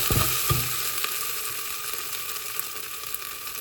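Garlic, ginger and chilies frying in hot oil, a steady bright sizzle with a couple of clunky stirring knocks at the start, close and continuous.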